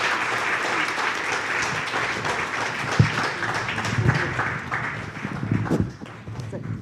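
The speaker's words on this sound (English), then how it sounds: "Can we get a round of applause for our panel?" Applause from a small audience for a panel at an elders' reflection circle, a moderately loud patter of clapping that continues throughout and thins slightly toward the end, with a few voices and knocks underneath.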